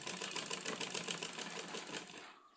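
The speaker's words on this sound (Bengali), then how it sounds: "এখান থেকে আবার সেলাই শুরু করব।" Rapid, even stitching of a sewing machine running close by for a couple of seconds while sewing around a corner, then slowing and stopping at the end.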